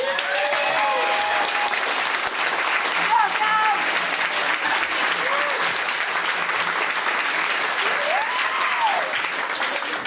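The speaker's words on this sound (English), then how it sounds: "One more round of applause for our fantastic." Audience at a theatre performance of As You Like It applauding warmly, sustained clapping throughout with a few scattered whoops and cheers rising over it.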